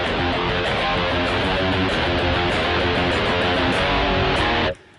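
Dry electric guitar through a Rocktron Utopia G300 amp sound with no effects plays a dense, continuous riff, loud and close, then stops abruptly near the end, with no talking.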